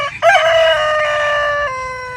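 A rooster on a mixed farm crows once, loud and close, on a rainy day. The drawn-out, tonal call holds for nearly two seconds and drops in pitch toward the end, with no talking over it.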